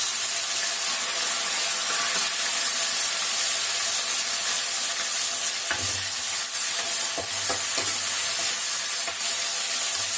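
Garlic cloves sauté with chopped onion in a pan for a kuzhambu. A steady close sizzle runs throughout, with occasional scraping stir strokes and no one talking.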